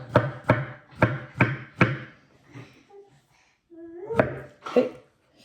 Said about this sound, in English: Do you want to watch me chopping?